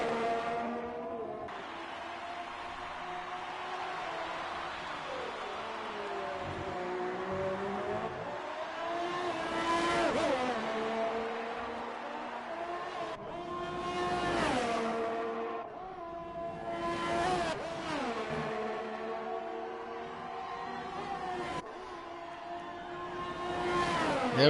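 Race car engines in a sim racing Australian Grand Prix rise and fall in repeated revving sweeps through the final corners. Several louder surges pass near, with a steady engine drone in between and no talk.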